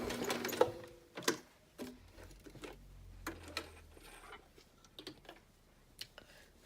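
Sewing machine stitching sweater material into mittens, with short bursts of rapid mechanical ticking and whirring, a brief low motor hum, and scattered close clicks and handling noises between the runs.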